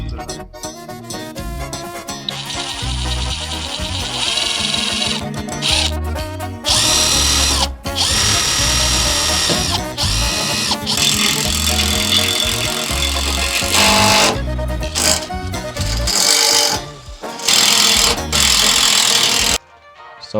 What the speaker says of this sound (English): I'm gonna drill into the bumper to make it sit flush like that.